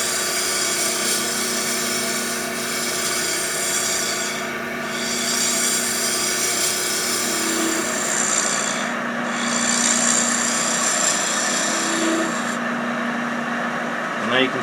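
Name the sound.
Hope 6mm Pro carbide woodturning tool cutting wood on lathe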